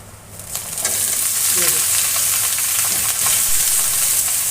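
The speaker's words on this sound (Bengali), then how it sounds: "পেঁয়াজটাকে একটু হালকা ব্রাউন করে ভেজে নেব।" Onion fries in a pan until light brown, a loud continuous sizzle close up with scraping stirs throughout and a brief louder crackle near the end.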